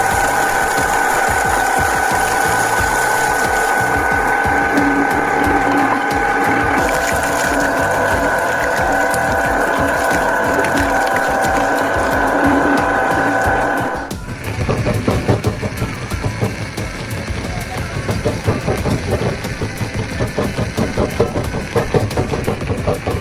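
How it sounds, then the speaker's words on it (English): Multi-function vegetable and fruit grinder running loud and close with a constant mechanical whine and hum, shifting partway through to a rougher, lower churning drone. "Discover the multi-function vegetable and fruit grinder, a technological masterpiece that will make all preparation work faster and easier than ever."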